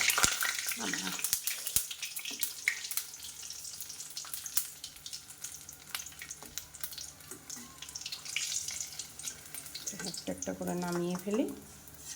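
Vegetable chops frying in hot oil over a high gas flame, a steady crackling sizzle running throughout with occasional clinks and stirring, and someone talking over it.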